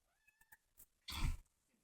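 A cat meows in a quiet room: a few soft, short chirps and one drawn-out tonal call, then a louder burst of noise near the end.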